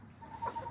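Chickens inside a cage give soft, faint clucks in a brief, quiet moment with low background noise.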